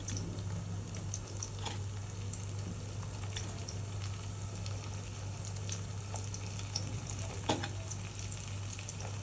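A vegetable bhaji fries in a pan at home, giving a steady, even sizzle throughout with a few faint clinks and stirs on top; nobody speaks.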